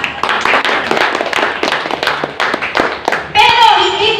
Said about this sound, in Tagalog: Ay, palakpak naman ang pinawalang sala.